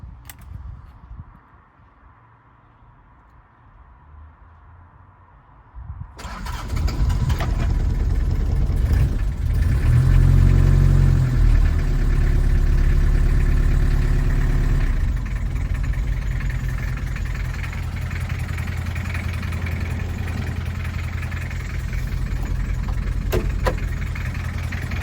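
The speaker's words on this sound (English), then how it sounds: "You can hear that little old diesel" 1979 Toyota Hilux RN30/LN30 two-wheel-drive diesel pickup cranking and starting after a few quiet seconds, then settling into a steady close idle with a low rumbling throb and a slight rise in revs early on.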